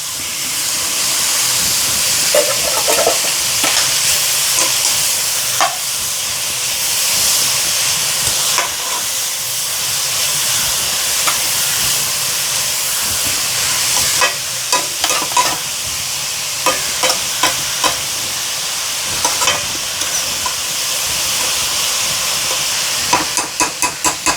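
Grated coconut is stir-fried in a pan, a continuous loud sizzle and steamy hiss broken by repeated scraping and clicking strokes of a spoon against the pan, growing more frequent toward the end.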